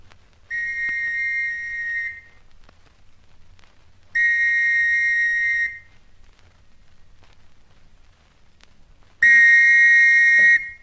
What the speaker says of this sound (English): Police whistle again, I think.